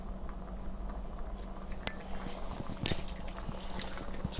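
Homemade chilli simmers in a pot on a stovetop, a faint, steady bubbling and soft patter with occasional small pops and clinks over a low background hum.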